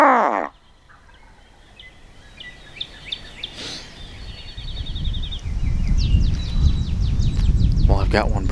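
A wild turkey gobbles at a distance during a spring hunt, its faint rattling calls carrying over quiet woods, followed by nearer scattered bird chirps and a rising rustle of movement; no talking.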